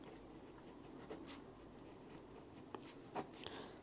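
Pen or pencil scratching on paper while a math problem is written out, faint and close, with soft strokes and a few brief taps, no talking.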